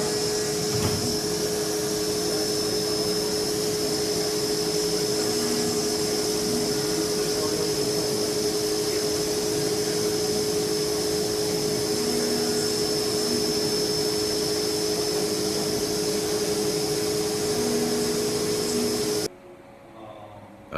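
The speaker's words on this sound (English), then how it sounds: "we're warming up the spindle for a little 4mm end mill cleanup of the holes" Milling machine spindle running with a 4mm end mill cleaning up holes in a specialty wrench part, a steady close whine and hum with a constant tone, cutting off abruptly at the end.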